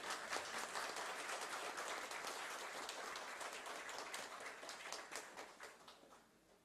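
Audience clapping at a lighthouse tourism conclave in Puri, Odisha, a dense patter of many hands that holds steady, then thins and fades toward the end.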